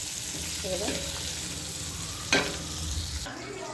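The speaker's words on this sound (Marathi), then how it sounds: "कारलं पण मी गिफ्ट तळून घेऊ तर एकदम छान परतलं गेलेलं आहे आपलं कारलं" Bitter gourd (karela) frying in a pan, a continuous sizzle with stirring scrapes and one sharper clatter of the spoon near the end, no voices.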